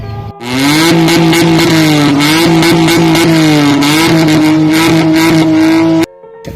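A loud vehicle engine drones steadily with a rough, buzzing exhaust note, holding a near-constant pitch for several seconds before cutting off abruptly.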